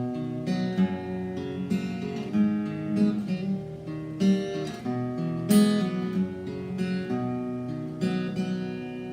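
A fingerpicked guitar plays a gentle, steady pattern of plucked notes and ringing chords starting on G over C, close and clear, with no voices; the intro to a song.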